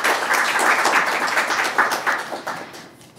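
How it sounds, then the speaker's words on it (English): Brief applause from a small cafe audience at a poetry night, a dense patter of clapping that thins and fades over a few seconds. "Let's give him an extra loud round of applause."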